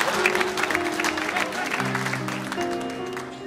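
A stand-up comedy audience claps, a dense burst of applause that swells and slowly fades over a few seconds, with some voices mixed in.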